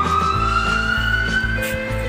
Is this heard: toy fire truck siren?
yes